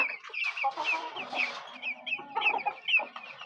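Silkie chickens clucking on a livestock farm, several birds giving short overlapping clucks and calls at close range, busy and irregular, with no talking.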